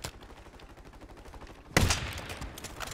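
Gunfire from the video game Warzone 3: a steady stream of rapid, rhythmic shots that suddenly swells into a loud, dense burst of near fire partway through.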